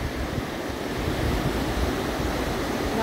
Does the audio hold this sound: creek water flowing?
yes